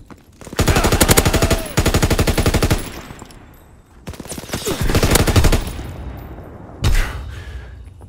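Sustained bursts of rapid automatic gunfire in Call of Duty WW2 multiplayer, loud and close, with two long volleys followed by a shorter crack and pause between bursts; no speech.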